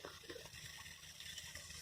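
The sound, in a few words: water filling a water butt from a hose pipe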